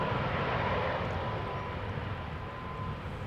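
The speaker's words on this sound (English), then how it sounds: "This was KLM flight 980 arriving from London City" KLM flight 980 from London City arrives at Schiphol, its jet engines a broad steady roar that fades slightly as it passes, heard alone at moderate distance.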